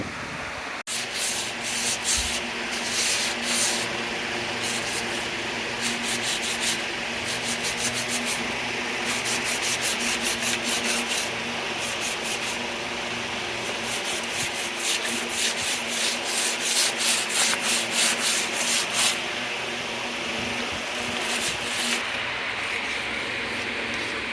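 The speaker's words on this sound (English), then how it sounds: "Alright, we'll get this all sanded, give it another good cleaning" Sandpaper rubs rhythmically against wooden furniture in repeated back-and-forth strokes, close and fairly loud, continuing for a long stretch without talk.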